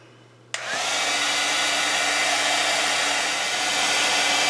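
A handheld heat tool switches on abruptly after a brief quiet moment and blows with a steady, loud, close whooshing hum, warming embossing powder on a handmade card.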